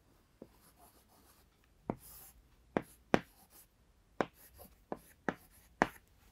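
Chalk or marker writing on a board during a chemistry lesson, a series of sharp taps and short scratchy strokes spaced irregularly, close and quiet in an otherwise still room.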